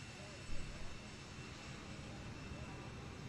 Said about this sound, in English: you can hear the engines powering up